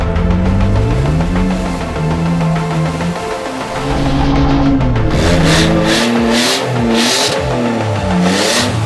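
A race car engine revs hard under full throttle, loud and close, its pitch climbing and dropping repeatedly through gear changes, with bursts of tire noise.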